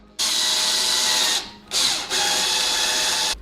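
A power drill drives pocket screws into a custom laundry cabinet: two loud, sustained whirring runs, the first about a second long, the second longer after a brief pause, with no talking.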